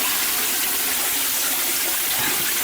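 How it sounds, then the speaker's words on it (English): A toilet flushes with a loud, steady rushing torrent of water that fills the whole moment without a break. "Let's fucking flush this shit"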